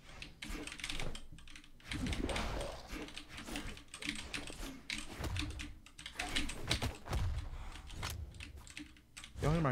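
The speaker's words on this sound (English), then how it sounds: "Y'all hear my keyboard just going crazy in the back?" Rapid, busy clatter of computer keys close by, nearly continuous with quick flurries, while a voice murmurs faintly underneath.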